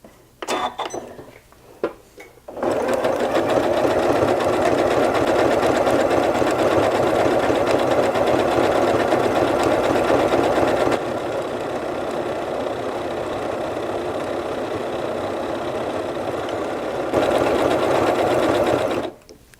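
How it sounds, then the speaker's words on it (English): Sewing machine running a decorative stitch pattern, D33, on fabric with no stabilizer behind it, a steady close mechanical whirring hum that starts after a few clicks and runs continuously with slight changes in speed. "So now I'm going to stitch this stitch without any kind of stabilizer behind it."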